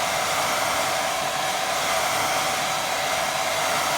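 A hair dryer runs on its high setting, drying a glazed watercolour painting with a steady, loud, unbroken whoosh of air for the whole stretch, no voices over it.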